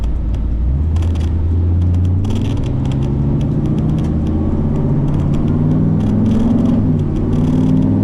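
A 1966 Chevelle pro street muscle car drives along, its engine giving a loud, close, deep rumble that rises and shifts in pitch as it moves through the gears, with no talking.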